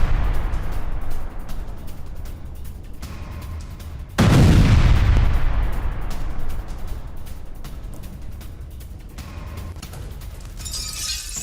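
Explosions from a Russian missile and bomb bombardment in Ukraine, a loud booming blast with shattering debris that rings out and slowly fades, preceded and followed by rough, noisy background rumble.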